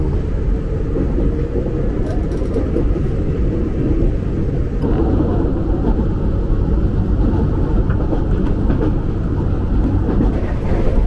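An electric KRL commuter train, an older INKA-built unit on the Palur–Yogyakarta line, rushes past at speed, a loud steady rumble of wheels and motors filling the whole stretch with no pause.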